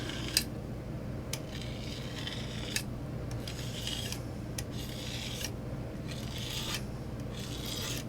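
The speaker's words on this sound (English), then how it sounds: "I'm gonna scrape off these other colors so I have some room to work with." A palette knife scrapes dried acrylic paint off a palette in repeated rasping strokes, about a dozen scrapes at an uneven rhythm, close and moderately loud over a steady low background hum.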